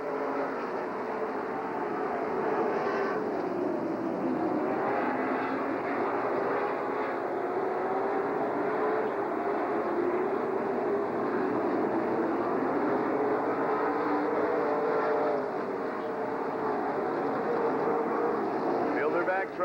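Late model race cars race around Rockford Speedway in Illinois, their engines forming a continuous, distant roar with rising and falling waves as the field passes, while an announcer talks over it.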